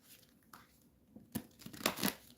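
Tarot cards are shuffled in the hands, starting with soft faint rustles and building to a few crisp, papery riffling bursts near the end, close by and with no talking.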